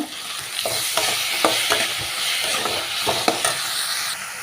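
Garlic and onion sauté in hot oil with curry leaves and salt for a bitter gourd curry, a continuous close sizzle broken by repeated spatula scrapes and stirring taps, with no talking.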